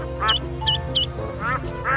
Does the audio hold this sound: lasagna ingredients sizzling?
no